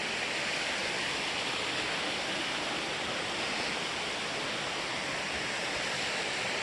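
A private waterfall beside a campsite on Seneca Creek near Spruce Knob, West Virginia, rushes in a steady, even wash of falling water, close and continuous with no voices.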